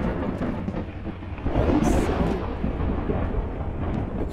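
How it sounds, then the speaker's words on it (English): A thunderstorm rumbles in the video game Skyrim, a low roll of thunder swelling midway and lingering under a rainy hiss. "Big storm, huh?"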